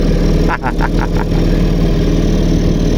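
A tiny outboard motor on a small Mayland 14 boat idles close by, a steady, even low chug that runs the whole time, with a brief burst of mechanical clicks near the start.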